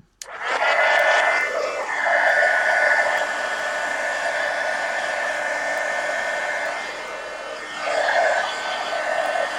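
Hair dryer blowing on thick paint splatters in a mixed media journal, switching on with a click and running steadily and fairly close for several seconds, its pitch wavering as it moves, with no talk.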